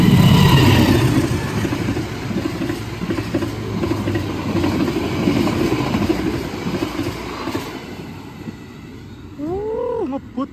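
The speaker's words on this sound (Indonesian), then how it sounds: "Ada 2 kereta api ini." A fast train, the Kertanegara from Purwokerto bound for Malang, rushes past on the track with a loud, continuous roar and rattle of carriages that eases toward the end, where a brief whine rises.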